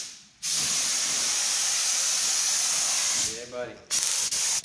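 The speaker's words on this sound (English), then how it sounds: "And we'll spray some primer down." Primer paint sprayed onto a car body during rust repair on a Nissan GQ Patrol Shorty 4x4, a close, steady hiss that runs for about three seconds, stops, then resumes in short bursts with a brief voice between.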